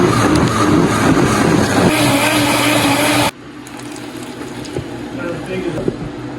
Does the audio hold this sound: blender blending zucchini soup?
yes